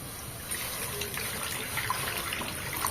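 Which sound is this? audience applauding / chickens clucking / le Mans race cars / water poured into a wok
water poured into a wok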